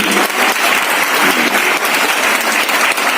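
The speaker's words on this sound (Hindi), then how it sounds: "एक ताली और हमारे भाई शंटी जी के लिए और महिपाल जी के लिए" A convention crowd at a 2021 network-marketing celebration claps loudly and continuously, a thick, steady wash of applause without pauses or talk.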